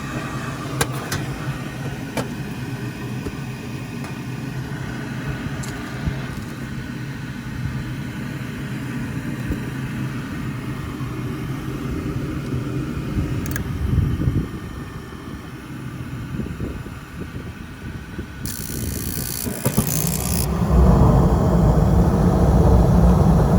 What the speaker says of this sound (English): Hard to see any flame on these new burners.